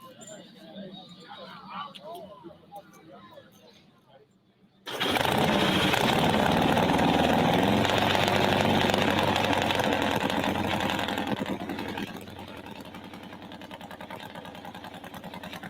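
A nitro-fuelled Harley engine in a racing snowmobile sled bursts into a loud, sustained roar after a quieter stretch with voices, holding steady at full volume before easing slightly toward the end.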